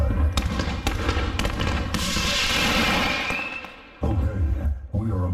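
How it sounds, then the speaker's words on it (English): Test shots of New Year's Eve pyrotechnic fireworks go off as several loud, close pops and bangs, followed by a long hissing, crackling burst that fades before another sharp report. "Testing pyrotechnics."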